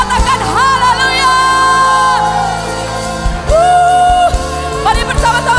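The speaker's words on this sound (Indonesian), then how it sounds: "Berikan tepuk tangan bagi dia." A church congregation at Breakthrough Community Church in Surabaya, Indonesia, whoops, shouts and cheers loudly and continuously, with sustained raised voices filling the hall.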